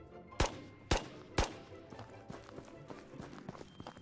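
Three sharp, loud gunshots come at an even pace in the video game Ghosts of Tabor, followed by quieter scattered clicks and footstep-like taps against a dull background.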